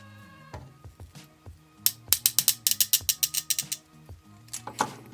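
Plastic joints on a Transformers Revenge of the Fallen deluxe toy ratchet as it is transformed, with a fast burst of sharp, close clicks in the middle and scattered single clicks and handling noise around it.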